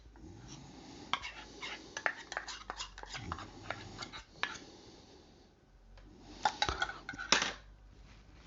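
A utensil stirs Scotch pancake batter made with powdered egg in a bowl, knocking, clinking and scraping in irregular bursts close by, with a pause midway before the mixing picks up again.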